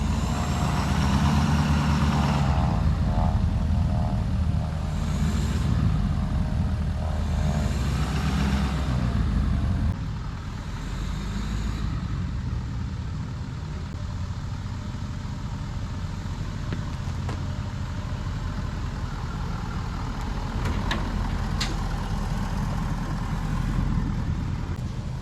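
The diesel engine of a wrecked Ford 6.7 Powerstroke truck runs as the truck is moved, with a heavy rumble that is loud for the first ten seconds and then settles into a steadier, quieter drone.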